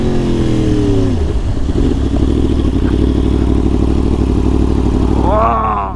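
A Yamaha R1 sport bike fitted with a KO exhaust roars loudly inside a tunnel, its engine note holding a deep sustained drone and then rising in a brief rev near the end.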